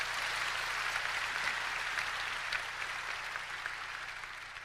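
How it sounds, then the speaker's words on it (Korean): A church congregation at a large pastors' gathering claps together in a steady, dense burst that slowly fades, with no voices over it. "박수."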